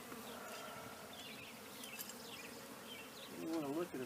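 Honey bees buzz steadily at an opened hive during an inspection, a dense, close droning hum that swells louder near the end, with faint talk in the background.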